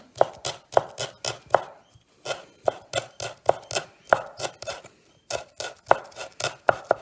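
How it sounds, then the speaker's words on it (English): Knife chopping fresh garden chives very finely on a board, a fast rhythmic run of sharp taps in quick bursts with brief pauses between, close and crisp with no talking. "Make sure they are chopped very fine."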